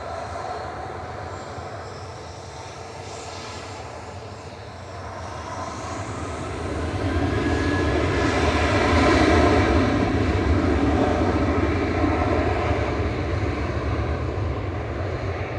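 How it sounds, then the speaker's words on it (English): A Ryanair jet arriving from Cork at Manchester Airport, a steady broadband engine roar that swells louder in the second half as it passes nearer, with no talk. "Next in is Ryanair from Cork"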